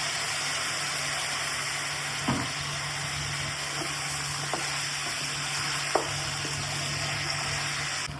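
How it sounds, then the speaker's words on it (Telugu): Chicken frying in hot oil with curry leaves and green chillies, a steady close sizzle with a few faint stirring knocks, no talking. "ఇప్పుడు చికెన్ వేసి బాగా ఒక ఫైవ్ మినిట్స్ ఫ్రై చేయాలి"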